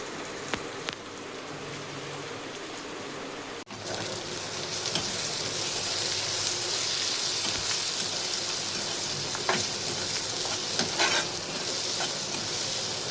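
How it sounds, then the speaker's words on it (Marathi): Onion frying in a kadhai until browned, a brief quieter stretch then a sudden surge into a loud, dense sizzle that carries on steadily with scattered stirring clinks, no voices. "आता कांदा आपण चांगला लाल करून घेऊ आणि मग नंतर थोडा मसाला टाकू"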